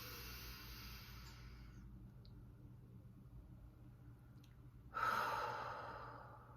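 Two slow, deep breaths are heard up close. A long inhale and exhale is followed by a quiet pause, then a sharper, louder breath that trails off.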